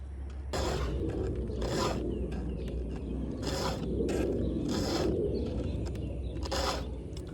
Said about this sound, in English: I've got a fairly new file here, and I swear these teeth are like hardened, like beyond cutting.